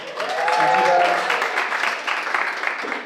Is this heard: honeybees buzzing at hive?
no